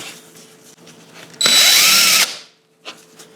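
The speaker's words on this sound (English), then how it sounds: "I put this whole assembly into the drill. Tighten it up. And here I'll demonstrate the type of holes it makes." A power drill fitted with a hole-cutting assembly bores through material in one loud burst of high whirring and grinding lasting under a second, between quieter handling sounds and a short clatter afterward.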